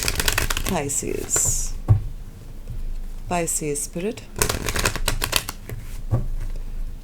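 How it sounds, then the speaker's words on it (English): A tarot deck is shuffled in quick riffling, papery bursts between spoken words, with someone talking close to the cards. "Pisces, let's give 3 quick shuffles."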